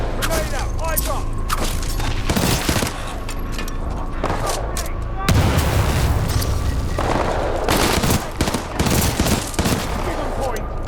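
A grenade explosion and bursts of gunfire in Titanfall 2, with heavy booms and sharp shots crowding a busy battle scene, loud and near, while voices call out over the noise.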